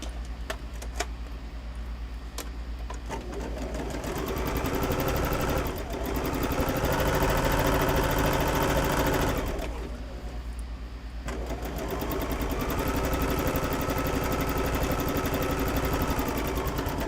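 Sewing machine piecing quilt blocks, a steady whirring hum that runs in long bursts with short pauses between seams, fairly close.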